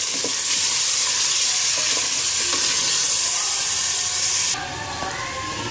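Yogurt blended with National biryani masala is stirred in a hot pan, producing a loud, dense sizzle with faint spoon strokes that drops sharply in volume near the end.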